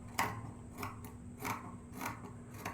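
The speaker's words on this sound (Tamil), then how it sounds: "ஸோ இதை ஃபுல்லாகவே வந்து நம்ம நாச்சஸ் வந்து போட்டுட்டு கொஞ்சம் கட் பண்ணி விட போகிறோம்" Scissors snipping notches into fabric for a neckline finish, about five short crisp cuts at a steady rhythm, faint and close with a low hum underneath.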